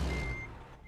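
Truck reversing beeper in American Truck Simulator, a steady high electronic tone heard once at moderate volume over a low engine rumble.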